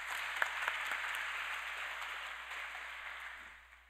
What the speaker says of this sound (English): just a round of applause to everyone out here